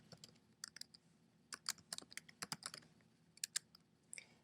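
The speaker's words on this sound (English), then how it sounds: "So anytime that you type something in," Keys clatter on a computer keyboard as figures are entered into a household budget, close and quiet irregular bursts of typing with short pauses and no talk.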